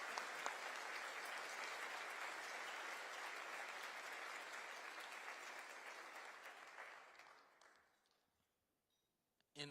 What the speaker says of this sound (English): Can we get a round of applause for our panelists today?